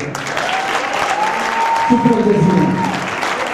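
An audience applauds in a televised tribute to a late singer, a broad wash of clapping that builds midway while someone speaks over it and a sustained musical tone lingers underneath.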